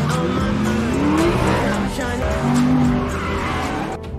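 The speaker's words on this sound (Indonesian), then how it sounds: "Saat itu Kathy menunjukkan keahliannya dalam hal mengendarai mobil milik pengunjung hotel tersebut" A car being driven skillfully in a film scene, with loud engine revving and tires squealing as it skids, alongside a narrator talking over the sound.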